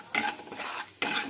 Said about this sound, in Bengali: এবারে এটাকে হালকাভাবে নেড়ে নেব তেলের সঙ্গে।